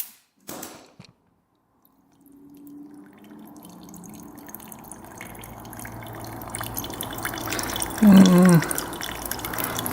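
Liquid trickles weakly from a badly clogged petcock, a thin, steady dribble that builds gradually after a brief clatter and near-silence, with a louder gush close by toward the end.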